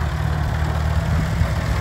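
A restored vintage tractor with a hand crank idles in a steady, close, low rumble with an even throbbing pulse and no pauses or voices.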